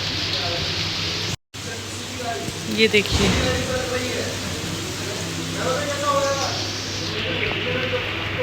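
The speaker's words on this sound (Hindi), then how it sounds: "बारिश आ रही है" Steady rain falls with a broad, even hiss through the whole stretch, while a person talks over it in Hindi on and off.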